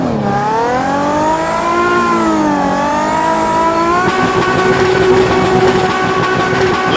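Car engine revving hard while drifting, with repeated lift-off and throttle cycles: a loud, near, continuous whine that dips and rises in pitch, then turns rougher and harsher as throttle comes back on.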